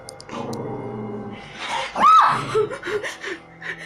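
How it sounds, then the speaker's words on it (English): A dog barks at a window inside a house, giving a few short, sharp yips and a gasping bark in a quick burst, close by. "The dog is barking at the window in the beginning of the clip"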